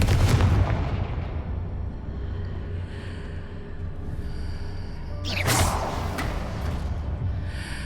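A Confringo blasting spell fires in the Hogwarts Legacy video game, a booming impact at the start followed by a lingering rumble, then a second bright explosive burst with crackle near the end, loud and without talk.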